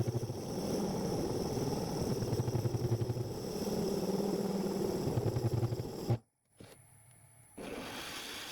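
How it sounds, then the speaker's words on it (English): A drill boring out wood from a turned wooden egg on a lathe, a steady close motor drone with rough cutting texture that cuts out abruptly near the end before resuming faintly. "To remove some of the material before hollowing, I use a drill."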